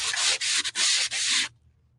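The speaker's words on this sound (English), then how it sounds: "I'm just going to start sanding over the top." Sandpaper rubs over painted wood to distress the finish, a loud, close scratching in a few quick strokes with short breaks, then stopping abruptly.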